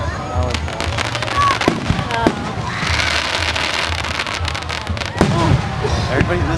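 Fireworks bursting at a park fireworks show in Rosemead, with repeated booms and crackling that run almost continuously and grow busier toward the end, while people nearby talk underneath.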